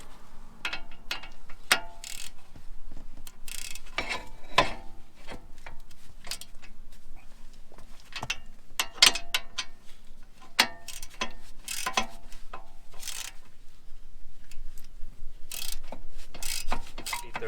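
A star socket wrench ratchets against brake caliper bolts on a Mercedes CLA 250, a close, steady run of crisp clicks broken by sharper metallic knocks, with no talking.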